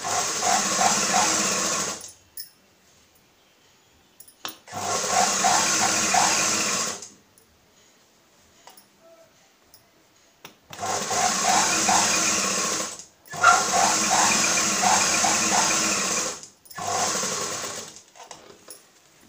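Sewing machine stitching a fall onto a saree, five bursts of steady fast whirring and clattering separated by brief silent pauses, close and fairly loud, no speech.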